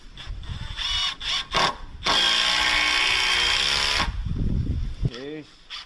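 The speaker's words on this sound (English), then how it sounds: "There's some screws. I can screw that in right now." A power drill drives screws into wood while trapping gear is prepared, a loud sustained whir with short bursts before and after, the motor pitch rising and falling, with someone talking nearby.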